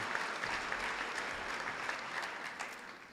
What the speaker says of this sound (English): you guys deserve your own applause too